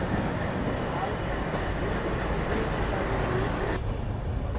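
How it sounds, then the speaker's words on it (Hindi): Shree Shakti AC Express crawling slowly into Ambala Cantt junction, heard from inside as a constant loud rumble of wheels and carriage with faint high squeals. "फिलहाल अपनी ट्रेन अभी क्रॉल करते हुए अम्बाला पहुँच रही है।"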